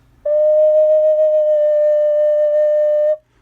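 A single sustained flute note, steady and clear with a pure tone, held for about three seconds before stopping cleanly.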